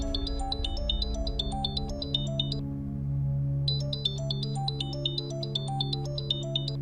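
A mobile phone ringtone plays a repeating electronic melody, loud and close, pausing briefly midway before starting again, with no voices over it.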